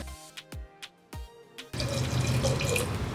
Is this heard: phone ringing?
no